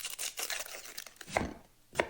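An onion being chopped on a cutting board, a quick run of crisp knife strikes followed by two sharper, isolated chops, close and clear with no talk.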